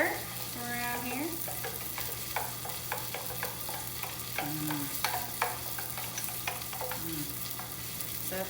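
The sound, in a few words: stirring birria sauce in a pot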